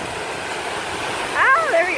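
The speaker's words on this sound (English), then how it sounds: "Oh, there we go, waterfall." A waterfall passed on a safari-style ride, its steady rush faint at first and swelling louder toward the end, with some voices briefly over it.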